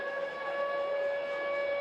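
Arena sirens wail at the start of a university varsity ice hockey game at Ice Sheffield, a loud, steady sustained tone filling the darkened rink with no break.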